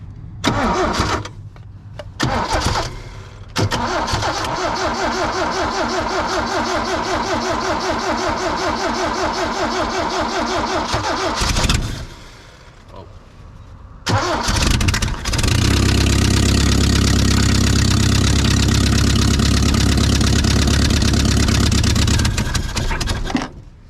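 A 1972 Toyota Celica engine cranks and catches, stumbles briefly, then fires again and settles into a loud, steady idle through a header with a worn exhaust donut at the tailpipe connection.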